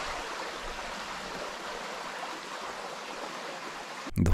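Fresh, clear stream flowing over a clay-banked creek bed in the Westland goldfields, a steady close rushing wash throughout, ending in a brief loud knock or handling thump.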